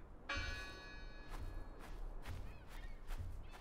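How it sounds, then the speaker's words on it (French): A bell ringing in the video game Draugen: one bright metallic strike that rings on, then softer repeated tones over a steady low rumble of background noise. "qu'est-ce qui sonne la cloche"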